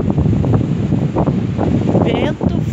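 Strong wind buffeting a microphone at the seaside during heavy surf on a beach in Torres, a loud continuous roar with gusty surges, a voice speaking briefly over it.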